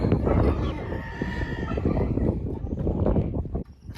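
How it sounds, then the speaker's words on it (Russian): Hens clucking and calling inside a chicken coop, a dense, busy chorus of close bird noises running steadily throughout, with a short drop near the end. "А кур выпускаю на улицу."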